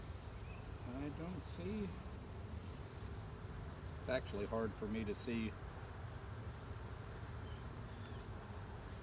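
Honeybees buzz around an open hive during an inspection, a steady faint drone under a close voice talking.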